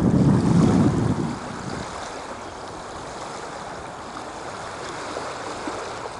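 Small waves wash at the water's edge of a muddy beach near Black Nore Lighthouse, with a louder rush in the first second and a half, then a steady, soft wash under wind noise.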